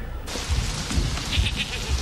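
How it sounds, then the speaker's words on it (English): A goat bleats in heavy rain in a scene from the 1993 film Jurassic Park, a few short wavering calls over a steady hiss of downpour. "Poor goat. It's just been left out there all day, like just getting wet"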